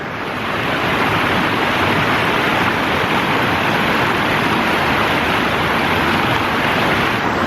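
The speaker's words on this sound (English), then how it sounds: "We found the waterfall. I think it's man-made" A man-made waterfall in a mountain park roars with steady, loud, broadband rushing water, mixed with some wind buffeting on the microphone and no talking.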